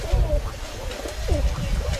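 Pigeons coo softly in a few low, rolling calls amid steady background rustle and noise, with no clear talk.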